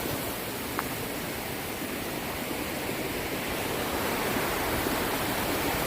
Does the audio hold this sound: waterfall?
yes